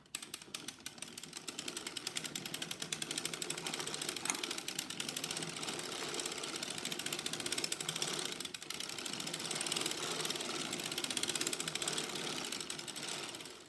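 A hand-cranked circular sock knitting machine is turned steadily, giving a continuous, close mechanical whirring and rapid clicking of needles and gears that stays even throughout.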